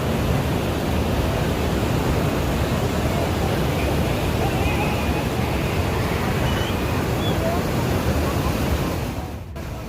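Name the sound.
water rushing out through dam outlet channel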